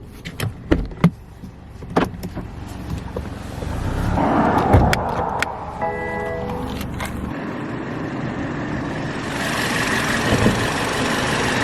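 A few clicks and thumps, then a BMW B48 2-liter four-cylinder engine starts and settles into a steady close idle, with a whining hum layered on top.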